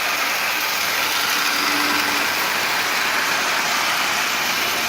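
Marx double reduction 666 toy train motor running fast at half power, a steady dense buzzing whir with rattling track noise, constant and close.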